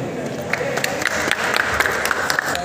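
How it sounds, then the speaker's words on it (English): Crowd applause at a comics carnival music event in Kolkata, scattered claps rising into a steady mid-level wash, with a voice faintly underneath. "Big round of applause for all the"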